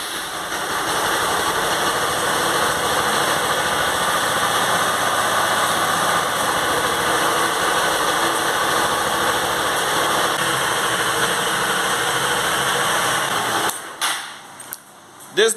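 A 150cc motorcycle engine with diesel oil in its crankcase idles with a steady, loud, even rumble that runs unbroken for most of the time, then cuts out near the end, leaving brief handling noises.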